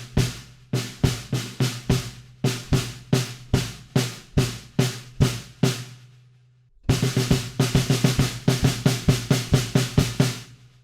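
A drum kit groove shifts from swung triplet feel to straight eighth notes: about six seconds of evenly spaced, loud hits over a low sustained tone, a brief gap, then a denser straight pattern.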